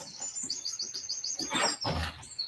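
Birds chirp and tweet in quick high bursts close by, with a few louder calls near the end, all outdoors and without talk.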